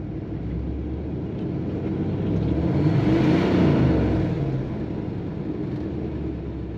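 A 2000 Chevrolet K3500 truck engine runs steadily at idle, a constant low rumble and whir that swells slightly in the middle, heard close up with no talking.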